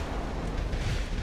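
Warship guns in a naval video game fire in a loud, rumbling barrage of deep booms and blasts, dense and continuous for a moment with no talking.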